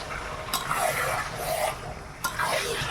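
Spices being stirred in a cooking pan, a steady scraping rasp with louder spoon strokes at about 0.5 and 2.2 seconds over a faint sizzle, close by and with no voices.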